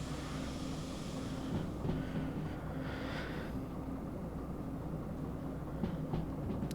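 A heavy train in the video game Derail Valley rolls steadily downhill through a valley, a continuous low rumble with faint rail clatter and no voices.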